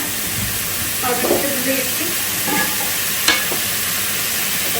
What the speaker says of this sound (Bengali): সব মশলা দিয়ে সব কিছু দিয়ে একটু ভাজা ভাজা করে রেখে দিব